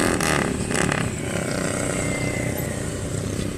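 Several motorcycles rev nearby, their engines making a loud, continuous rumbling roar with rising throttle blips near the start, dense and close.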